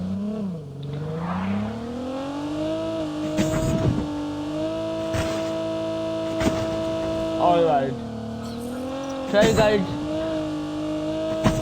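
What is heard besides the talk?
car driving in Call of Duty video game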